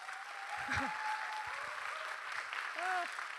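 An audience at a Tzu Chi USA English retreat gives a documentation team a round of applause, a soft, dense wash of clapping under which a voice speaks and brief tonal sounds rise and fall.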